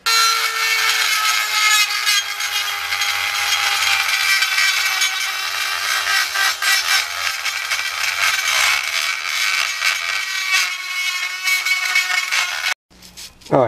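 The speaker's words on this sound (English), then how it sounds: "I'm going to try to get in there with the Dremel tool" A Dremel rotary tool grinds steadily on a wheel being smoothed before painting, a close, continuous high whine with a slightly rough edge that runs almost unbroken for about thirteen seconds, then cuts off abruptly.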